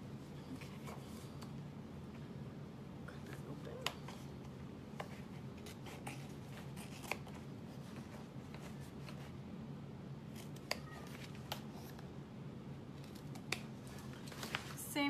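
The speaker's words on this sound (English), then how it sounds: "Same method, cutting down the center until we get about 1/2 inch to the other side, and then angle out your snipping" Soft, close scissor snips cutting fabric for a bucket bag sewing project, scattered irregularly over a quiet room background, each snip a brief crisp click.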